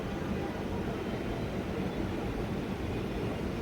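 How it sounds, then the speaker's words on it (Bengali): A Dhaka metro rail train arriving at the Mirpur 10 station makes a continuous broad rumble that holds steady throughout, loud and close, with no voices. "আপনারা দেখে থাকবেন, ঢাকা থেকে আগত মেট্রো রেলটি"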